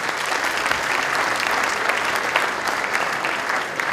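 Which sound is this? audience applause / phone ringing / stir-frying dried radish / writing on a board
audience applause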